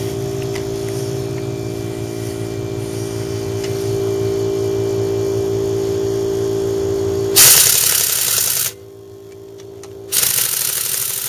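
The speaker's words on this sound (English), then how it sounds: "The compressor I'm using is a small compressor." A small 8-gallon air compressor runs steadily with a low motor hum for about seven seconds, then cuts to a loud hissing burst of air, a brief drop, and another hiss near the end.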